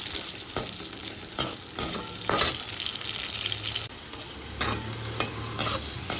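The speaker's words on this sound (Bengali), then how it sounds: "আর কাজু বাদাম ভালো করে ভেজে নেব।" Cashew nuts frying in ghee over a low gas flame, a steady close sizzle broken by repeated sharp scrapes and knocks of a spoon stirring in the pan.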